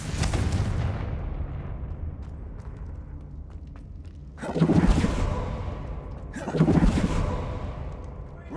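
Two Confringo fire spell blasts in Hogwarts Legacy, each a loud, whooshing, fiery burst about two seconds apart, rise over a heavy, rumbling combat background.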